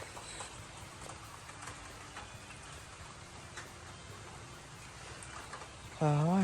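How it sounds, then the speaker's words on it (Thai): Steady, soft patter of rain falls continuously in the background, with a brief louder tonal sound breaking in at the very end. "ฝนตกเรื่อยๆวันนี้"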